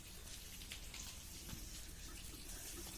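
Water gushes and spatters from a newly installed irrigation pipe in a farm field, a faint, even, rain-like patter and hiss with no break throughout.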